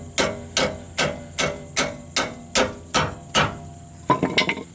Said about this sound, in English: grab our hammer, just hit it from the bottom so this bolt can go up